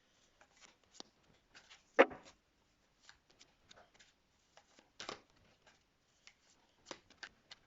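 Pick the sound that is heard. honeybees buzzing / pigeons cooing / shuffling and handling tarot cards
shuffling and handling tarot cards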